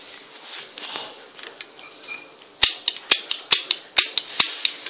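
A toy gun fires a rapid run of about nine crisp, close snapping shots after a couple of seconds of soft handling noise.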